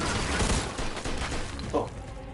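Burst of gunfire in the Mafia 2 video game, a short crackling volley mixed with game sound and effects.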